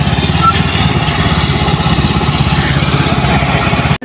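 A motorcycle engine runs steadily nearby, a continuous low putter with a rapid regular pulse, cutting out abruptly at the very end.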